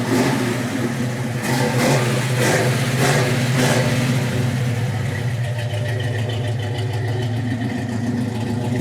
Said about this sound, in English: Nice dual exhaust out the back, sounds great.